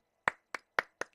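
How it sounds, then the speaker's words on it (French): Four sharp, evenly spaced hand claps ring out clearly in the puzzle game Quandary, each one crisp and close with silence between. "On applaudit bien fort."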